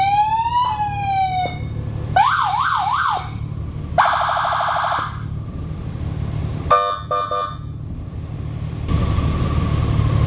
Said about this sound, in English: Has a Storm 200 watt siren